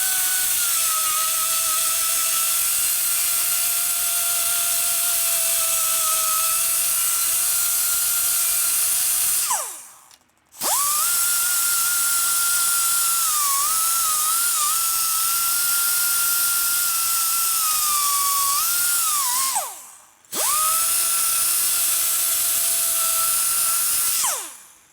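A power tool trims the valve guide in a 2017 Harley-Davidson FXDLS 110ci Twin Cam Dyna cylinder head, giving a steady, loud, high-pitched whine. It runs in three long stretches, each separated by a brief stop, with no talk.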